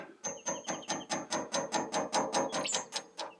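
A hammer taps a pin into the shifter of a Massey Ferguson 65 tractor, a quick, even series of about fifteen light metallic knocks, close and fairly quiet, with no voices.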